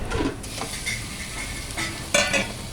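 Minced meat sizzling and frying in a hot pan, a steady close hiss with scraping stirs and a louder burst of sizzle near the end, no talking.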